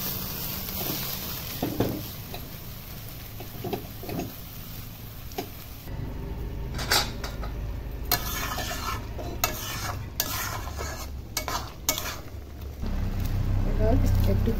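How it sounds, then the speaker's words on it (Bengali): Dal ghonto is stirred in a cooking pot, with scraping, clinking utensil strokes and bursts of sizzling, while a voice talks at times over the kitchen sounds. "এবারে ডাল ঘন্ট দিয়ে একটু ঘেঁটে দেবো"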